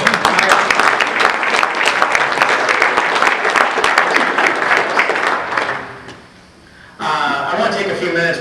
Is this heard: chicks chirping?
no